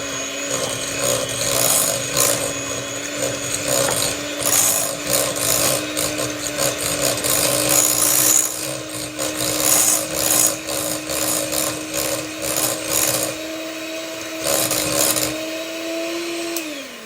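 An electric mixer whirs steadily, beating lemon white chocolate cannoli filling, with a constant motor hum and scraping rattles of the beaters in the bowl, close by, before winding down at the end.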